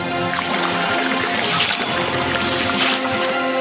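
Cartoon water spray in a loud, steady hissing rush that holds for a few seconds without a break.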